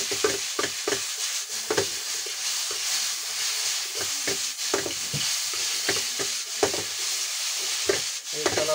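Chowmein with hot sauce and soy sauce is stirred in a frying pan over a constant hissing sizzle, with repeated quick scraping strokes all the way through, close up and without speech.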